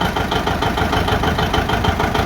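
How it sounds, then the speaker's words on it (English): A John Deere A tractor engine idles close by with a loud, steady, rhythmic two-cylinder chuffing that pulses evenly throughout, with no voices over it. "I don't know if you can hear me over this engine."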